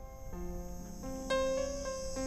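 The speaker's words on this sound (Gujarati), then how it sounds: "તમરા બોલી રહ્યા છે." Crickets chirping in overgrown scrub around a ruined old room, with several steady, shrill insect tones overlapping and shifting, faint but continuous and clear, no speech.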